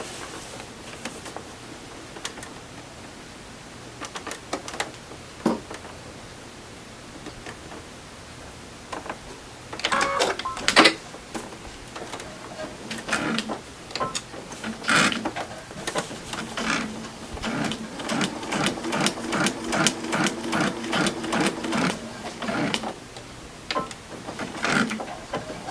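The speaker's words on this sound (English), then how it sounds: "I'm sewing right under number 6." Sewing machine stitching a log cabin quilt block, sparse handling clicks at first, then a rapid steady run of needle strokes building into a dense mechanical chatter.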